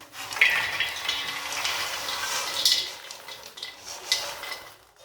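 Freshly popped popcorn being poured from one pot into another, a steady rustling patter with a few brighter clinks against the metal, running for several seconds before tapering off.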